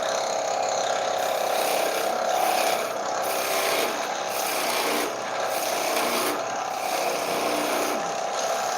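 A skew chisel shears a wooden Christmas ornament spinning at low speed on a woodturning lathe, giving a steady, close, continuous rasping scrape with slight rhythmic swells as the tool rides the wood.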